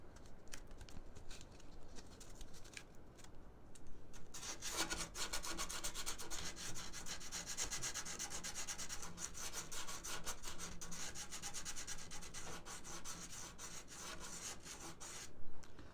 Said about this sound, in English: You get a little more force on it with something hard like this in your hand versus just holding the sandpaper.